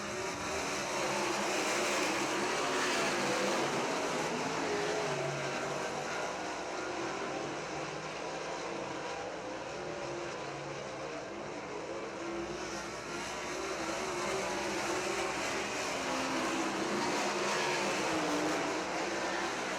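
Sprint cars racing in a heat at Crystal Motor Speedway, a continuous distant roar of several engines blending into a steady droning wash that swells and fades slightly, no talk.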